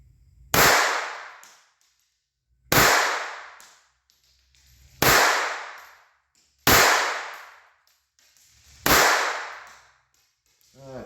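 Five loud, evenly spaced shots from a Walther .22 pistol firing Remington Thunderbolt ammunition crack out about two seconds apart, each ringing and decaying before the next.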